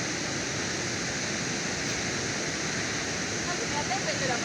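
The Véu de Noiva waterfall in Chapada Diamantina, Livramento de Nossa Senhora, roars as a steady, dense rush of falling water, fairly loud and unbroken throughout.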